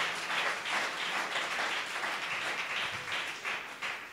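A church congregation applauds to acclaim God, with continuous crowd clapping filling the room at a steady level for several seconds.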